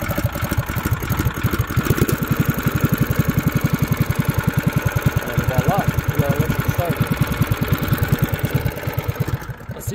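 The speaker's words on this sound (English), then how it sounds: "So put it to choke, give it a little gas, press the button, turn off your choke." A DuroMax 7HP engine with push-button electric start runs with a steady, rapid putter, loud and close, its even firing pulses continuing for the whole stretch.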